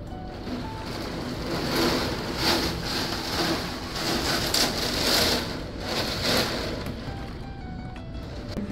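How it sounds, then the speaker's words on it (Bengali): Heavy downpour with gusting wind, a steady broadband hiss of rain on surfaces that swells and eases in waves, moderately loud and continuous, with no voices. "ভালো জোরে বৃষ্টি পড়ছে।"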